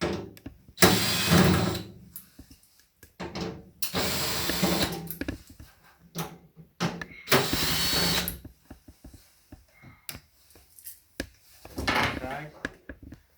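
A power screwdriver with a Phillips bit whirs in three or four short bursts while removing screws during assembly of a WEN 3410 air filtration unit, separated by handling clatter and quieter stretches.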